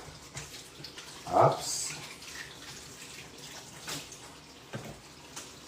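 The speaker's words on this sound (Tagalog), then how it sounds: "At siyempre, hugasan na rin natin sa tumutulong gripo." Fresh ginger rinsed under a running kitchen tap, a steady wash of water with a brief louder splash partway through and a short exclamation from a voice.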